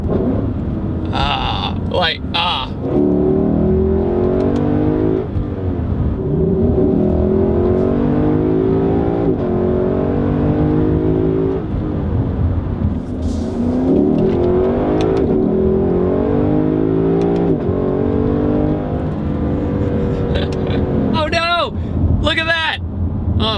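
A Lexus LC500 sports car engine drones and revs through rising gear pulls, loud and smooth, with occasional voices.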